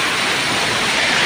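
Heavy typhoon rain pours down on a Quezon City street in Del Monte during flooding, a loud, dense, unbroken hiss with no gaps and no voices.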